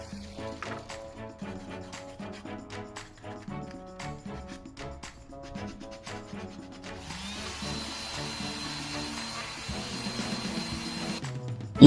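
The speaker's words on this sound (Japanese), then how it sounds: "あとはジグソーを使って穴を大きくしていきます。" A jigsaw cuts to enlarge a hole for a drink holder in a Hijet Cargo van build, giving a fairly quiet, steady buzzing run with a brief start and a harsher, higher whine in the second half.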